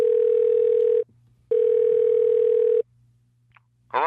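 A telephone ringback tone plays while a call is placed, two long steady beeps separated by a short gap, loud and close, followed by silence and a brief faint noise at the end.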